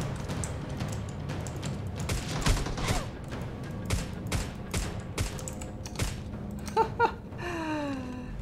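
Rapid gunfire rings out in PUBG Mobile: a string of sharp, evenly spaced shots that taper into a few scattered bursts, followed by a brief whistling sound at the end.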